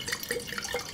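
Wine pours steadily into a regular glass, a continuous bright trickling splash with small bubbling bursts for about a second.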